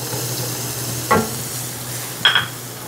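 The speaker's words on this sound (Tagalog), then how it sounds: "At dahil mainit na nga itong ating pan, sabay na natin ilalagay yung bawang, sibuyas" Garlic and onion go into a hot pan with butter for penne carbonara, a low, even sizzle broken by two brief clattering knocks from a utensil or pan.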